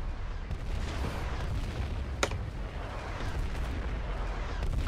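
Artillery fire in the war video game Foxhole: a continuous low rumble of distant booms and battle noise with one sharp crack near the middle, no clear talk.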